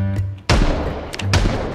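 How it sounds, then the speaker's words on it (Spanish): Two sharp, loud gunshot blasts in Project Zomboid about three-quarters of a second apart, each with a booming low thump and a trailing rumble. "Mucho disparo."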